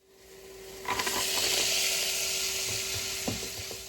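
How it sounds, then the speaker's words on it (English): A loud burst of hot-oil sizzling erupts as frozen potatoes hit a pan of hot animal fat, then settles into a steady crackling hiss with occasional pops. "When I drop the frozen potatoes in, it sounds like this."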